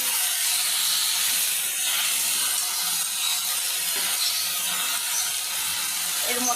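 Boiled jute leaves hit a pan of browned chilli, onion and garlic, giving a loud, steady hiss of steam and sizzle that runs throughout with faint clicking underneath.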